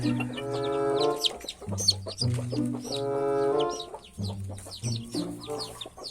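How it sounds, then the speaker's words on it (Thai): A hen clucks repeatedly in bursts of low, throaty calls, close by, with scratchy rustling in the background. "แม่ไก่ตัวนี้"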